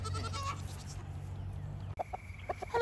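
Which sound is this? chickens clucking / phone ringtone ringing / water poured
chickens clucking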